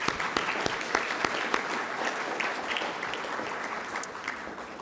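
Conference audience applauding a housing sponsor at a cities' annual meeting: a sustained, even wash of many hands clapping, fairly close and filling the room, with no talk over it.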